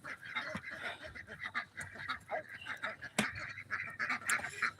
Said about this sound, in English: But these are our ducks.